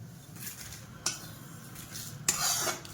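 Dry coconut being stirred as it roasts in a pan for Maharashtrian kala masala, with a steady soft scraping hiss and two sharper utensil clinks against the pan.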